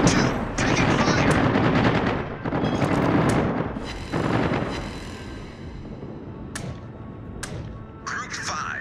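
Heavy gunfire and artillery booms from the naval battle video game Midway, loud and near, dense and continuous for several seconds before thinning into scattered shots and a few sharp cracks.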